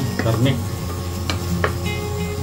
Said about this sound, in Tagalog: So halo natin yung chicken natin.